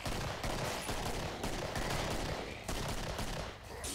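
Dense, continuous automatic gunfire from the zombie shooter game Killing Floor, loud and rapid with barely a pause across the stretch.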